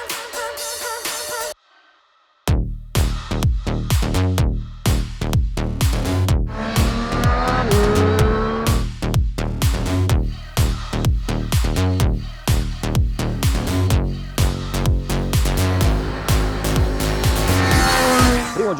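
A Triumph Street Triple 765 RS motorcycle, 2023 model, ridden hard on a race track, engine loud and close, revving and shifting continuously after a brief silent gap at the start.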